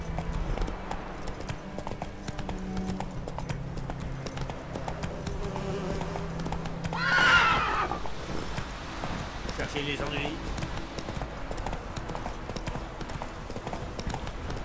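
Steady clip-clop of horse hooves trotting at a regular pace in The Witcher 3 video game, with a person talking over it and game sounds mixed in.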